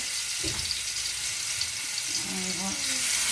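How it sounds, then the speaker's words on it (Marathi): Potatoes and eggs shallow frying in hot oil for egg biryani, giving a steady bright sizzle throughout with a few soft clinks and stirring noises underneath. "आता यामध्ये आपल्याला बटाटे आणि अंडी फ्राय करून घ्यायचे, शॅलो फ्राय।"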